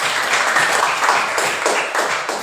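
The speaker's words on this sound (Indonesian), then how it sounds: "Berikan tepuk tangan buat kita." Classroom students applauding together at the end of a lesson, a dense, steady patter of many hands clapping at once, close and fairly loud throughout with no pauses.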